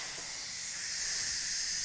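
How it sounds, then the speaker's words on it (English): Steam hisses steadily from an Instant Pot's pressure release valve, a loud, close, continuous rushing jet that swells slightly and holds without pause. "And then I'm gonna vent all that steam from our pressure, from our Instapot."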